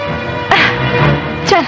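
Two dogs bark loudly and close up, with a couple of sharp yelps standing out against a dense, steady film soundtrack.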